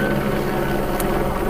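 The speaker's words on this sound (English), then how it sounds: "so that's a helicopter." A helicopter flies overhead outdoors, a steady droning rotor and engine rumble that holds loud and constant throughout the brief moment.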